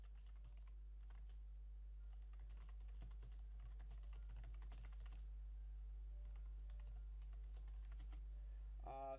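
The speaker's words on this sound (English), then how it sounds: "Sorry if you're hearing like a keyboard and mouse sounds." Keyboard typing and mouse clicking picked up by a microphone sitting very close to the keyboard during computer use, a faint, steady scatter of soft, irregular clicks and taps against a low hum.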